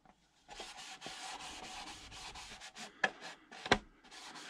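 Stripped paint is rubbed off a Lexan RC car body in a steady, close scrubbing rasp. Two sharper knocks come near the end.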